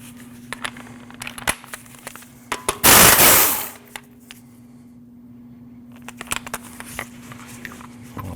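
Impact power tool spinning out 19mm wheel bolts on a Jeep Cherokee: one loud rattling burst lasting about a second, close by, set among quieter clanks and clicks of the tool.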